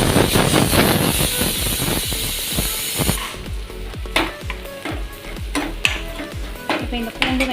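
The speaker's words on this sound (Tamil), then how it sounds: "இந்த பூண்டும் வெங்காயமும் சேர்ந்து நல்லா மிக்ஸ் ஆகட்டும்." Garlic and onion fry in a pan for a Kerala-style chickpea curry, a loud dense sizzle with regular scraping strokes of a spoon that continue after the hiss eases.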